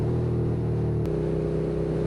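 A Suzuki SFV650 Gladius V-twin motorcycle engine runs with a steady, loud throbbing drone, its pitch dropping slightly as the revs shift partway through, with no speech over it.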